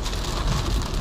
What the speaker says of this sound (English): Heavy raining, the old road